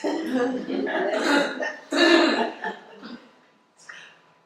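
A person at a gallery talk coughs and clears their throat in several harsh, close bursts, tapering off into softer breathy sounds, with voices mixed in.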